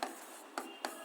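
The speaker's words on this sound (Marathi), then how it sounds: "बघा हे नाव व्यवस्थित लिहितो" Pen or marker writing a name on a board during a current affairs lesson, heard as three short scratchy strokes spaced apart in a quiet room, with no talking.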